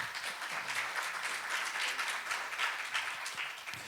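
A church congregation at a French-language service breaks into sustained applause for the Lord, a dense, even wash of clapping that holds steady for several seconds with no voices over it.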